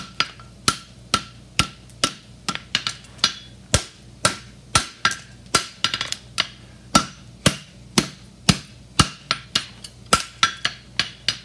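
Steady hammer blows on a steel horseshoe toe while shaping a Jim Poor Stoneleigh hind shoe, about two sharp ringing strikes per second, close and loud, with no talking.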